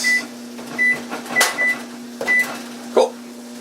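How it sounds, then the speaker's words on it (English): Several short electronic beeps from an oven keypad as a 30-minute timer is set for a pork dish in cast iron, with a steady hum underneath and a brief clatter near the end. "And set the timer for 30 minutes."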